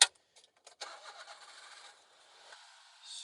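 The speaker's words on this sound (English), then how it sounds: "start the truck." A Daihatsu dump truck engine cranks and catches, then settles into a steady mid-pitched idle, heard close and fairly loud with no talking over it.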